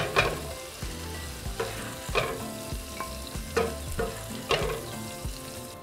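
Shrimp sizzle and fry in a pan for Cajun pasta, a steady crackling hiss broken by repeated scraping stirs and turns, close and alone with no talk.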